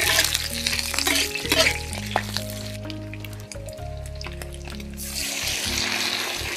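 Chili frying in a hot wok, a dense close sizzle with stirring, steady throughout with a brief dip midway and brighter spitting toward the end.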